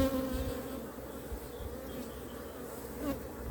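Honey bees buzz around an opened, crowded hive during a frame inspection, a soft, continuous droning hum heard close but faint, with no speech.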